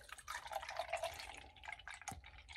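Water splashing and trickling in short uneven bursts, close by and fairly quiet, with no talking.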